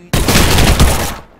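An Uzi fired in the video game Postal 4: a single loud, sustained burst of rapid automatic fire lasting just over a second, close and harsh, ending abruptly.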